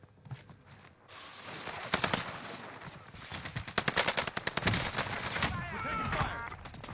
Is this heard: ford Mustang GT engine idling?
no